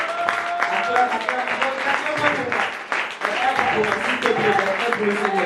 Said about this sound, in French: Est-ce que nous pouvons encore acclamer le Seigneur pour la parole qu'il a faite?